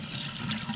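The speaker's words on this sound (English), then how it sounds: "So I'm going to just have some running water and run my thumb" Water streams steadily from a tap onto gutted grunion fish in a sink, a continuous close broadband rush with no pauses for the whole brief moment.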